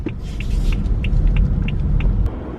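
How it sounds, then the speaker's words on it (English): A car idles in a stalled town traffic jam, a steady low engine rumble filling the scene with faint repeated higher ticks over the drone and no talking. "So I'm stuck in traffic"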